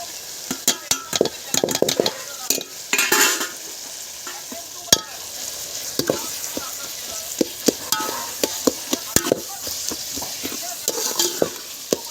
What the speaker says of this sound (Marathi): आता कढीपत्ता अद्रक लसूणची पेस्ट आणि मिरची हे टाकतात